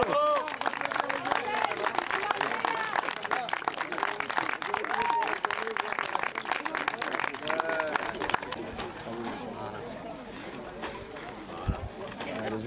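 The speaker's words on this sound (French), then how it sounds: "Et merci de les applaudir" Audience applause at a polo match in La Baule in 2018, a dense, steady clatter of many hands that fades after several seconds while voices talk over and through it.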